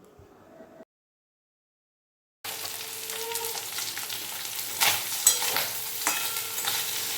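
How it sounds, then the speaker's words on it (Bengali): Fish heads fry in mustard oil for a festive moong dal; after a brief quiet opening and a short silence, a steady, close sizzle with crackling spatters and occasional stirring clinks runs to the end. "এখন মাছের মাথাগুলো ভেজে নেব"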